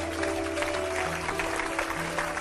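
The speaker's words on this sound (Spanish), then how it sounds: "Dele un aplauso fuerte al Señor Jesús." A congregation at a church service claps loudly together, a steady, continuous roar of applause over a low sustained musical drone in the background.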